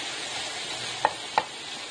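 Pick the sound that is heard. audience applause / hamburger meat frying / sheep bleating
hamburger meat frying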